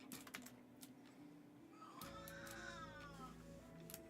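A cat meows once, fairly faint, after a few light tapping clicks like typing on a keyboard, with a low hum underneath and no speech.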